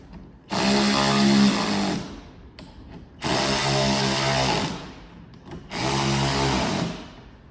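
A cordless power tool whirs in three bursts of about two seconds each, driving fasteners home on splash guards fitted to a 2024 Land Cruiser 250, loud and close with short pauses between.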